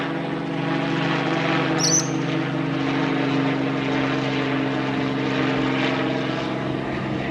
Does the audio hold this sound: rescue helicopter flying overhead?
yes